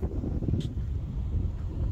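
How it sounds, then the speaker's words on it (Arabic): Strong, cold wind buffets the microphone at an outdoor pistol shooting range, a continuous low rumbling roar with gusty swells throughout. "هذا الهواء، هواء قوي والله، وبرد برد."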